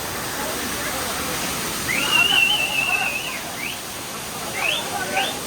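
Paal Aruvi waterfall roars as a steady broadband rush while people bathe, with brief high whistles and faint voices over the water.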